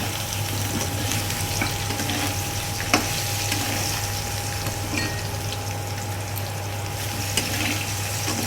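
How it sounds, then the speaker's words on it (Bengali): Boiled soybeans are stirred into fried potatoes in a hot pan, giving a continuous close sizzle with occasional scraping clicks from the spatula. "এর মধ্যে এই সেদ্ধ করা সয়াবিনটা দিয়ে একটু নাড়িয়ে নিচ্ছি"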